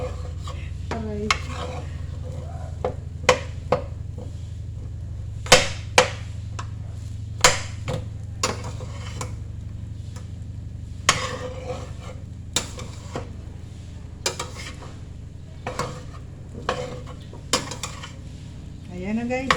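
A utensil scrapes and clanks against a pan, stirring Filipino sinangag fried rice with hotdog and egg, giving irregular sharp metallic knocks over a low steady hum, close and fairly loud.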